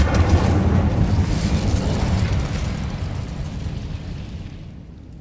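Incendio fire spell cast in the video game Hogwarts Legacy: a loud, rumbling fiery burst that starts at full strength and slowly dies away over several seconds.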